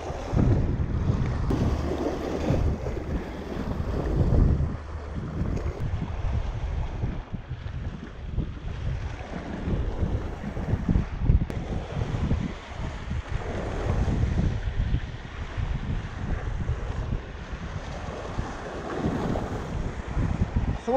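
Strong wind roars steadily across the microphone aboard a small fishing boat at sea near an island, with continuous low rumbling gusts and buffeting throughout and no talk.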